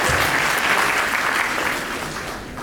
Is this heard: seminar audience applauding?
yes